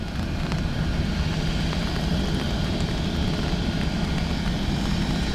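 A fixed-wing airliner touches down on runway 28 left at Dublin Airport, a steady, loud broadband engine roar holding constant throughout with heavy low rumble and no talk.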